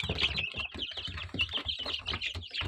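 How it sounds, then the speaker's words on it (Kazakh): Young chicks in a brooding pen chirp continuously, a dense stream of high, overlapping peeps close by, with no talk over them. "Мұнда осыдан алдын шыққан балапандар мынау."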